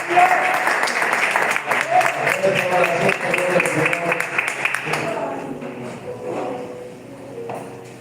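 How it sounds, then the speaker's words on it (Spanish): Church congregation applauding during a family service, a dense burst of clapping from many hands that fades out over several seconds. "Dame un aplauso a la palabra."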